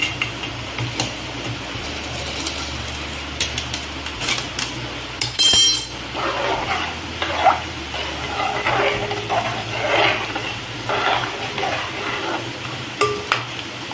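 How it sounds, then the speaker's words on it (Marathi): Rice grains pour and rattle into a pot of boiling water, followed by stirring scrapes and a steady bubbling simmer with occasional clinks. "हा तांदूळ मी टाकून घेते याच्यामध्ये"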